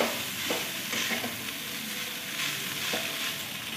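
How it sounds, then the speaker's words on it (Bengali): Egg fried rice being stir-fried over a full high flame, with a steady loud sizzle and scattered scraping strokes of the spatula through the rice, no voices. "আঁচটা পুরো হাই স্পিড থাকবে, গ্যাস ফুল স্টিমে ভাজতে হবে এবং ভাতগুলো ঝুরঝুরে হয়ে যাবে একটা একটা করে"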